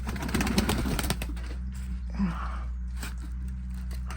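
Iraqi pigeons on a farm in France give faint, low coos over a constant deep hum, close by and without talk.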